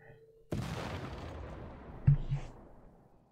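A unit's shooting attack in Civilization VI, a sudden boom followed by a long decaying rumble, then a second sharper hit and a fading whoosh.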